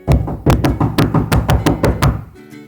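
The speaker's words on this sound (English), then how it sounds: "They heard a knock on the door." Someone knocks on a door in a quick run of about ten firm, close raps, loud and evenly spaced, ending with a softer rustle.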